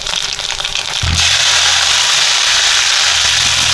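Mustard seeds crackle in hot oil with fenugreek, ginger and green chilli for Kerala puli inji. Loud, dense, continuous popping and sizzling sits close and swells sharply after the first second, with no talk.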